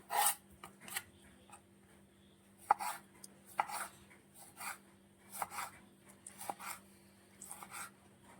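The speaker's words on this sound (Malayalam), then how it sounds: "അരമുറി തക്കാളിക്കാണ് എടുക്കുന്നത് അതും കൂടെ നമുക്ക് ഒന്ന് അരിഞ്ഞെടുക്കാം" Half a tomato being chopped with a knife on a board for a baby corn salad: a dozen or so crisp, irregularly spaced cuts, close and fairly quiet, with no talking.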